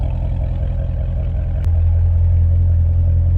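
A Chevrolet C7 Corvette Z06 exhaust note, a deep steady burble close by that steps up into a louder, lower drone after a sharp click partway through.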